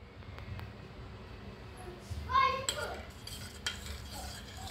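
A spoon stirs rose falooda in milk inside a pot, giving faint scraping and a few light metallic clinks against the pan, quiet and close.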